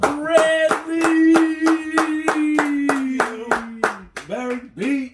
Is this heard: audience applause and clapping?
yes